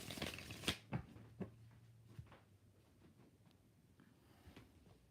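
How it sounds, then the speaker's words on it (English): Tarot cards are shuffled in a few quick riffling bursts near the start, followed by softer scattered card rustles, faint and close, with no talking. "Two more shuffles."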